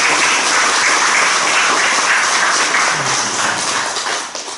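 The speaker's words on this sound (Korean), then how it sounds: "여러분 박수 한번 쳐주세요." Congregation applauding during a church anniversary and ordination thanksgiving service, a dense, steady wash of many hands clapping that holds loud throughout and thins slightly at the end.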